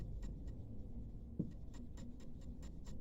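Chalk or pen scratching out numbers on a board during a maths lesson, a series of short, close scrapes and taps over a low room hum, with no talking.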